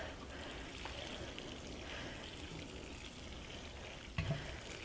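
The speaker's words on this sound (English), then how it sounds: "we're going to water it on the floor down here" Water pours over a freshly planted tray of pea shoots, a soft, steady trickling wash that stays faint and continuous, with a small knock near the end.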